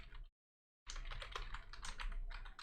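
Typing a chat message on a computer keyboard, close and fairly loud. After a brief silence, dense rapid keystrokes run steadily with no talking.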